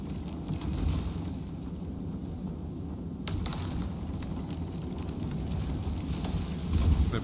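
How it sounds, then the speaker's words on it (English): Strong wind blows steadily in the open world of the survival game Icarus, a loud, continuous roar that swells slightly partway through and again near the end, with no voices. "it's still too windy"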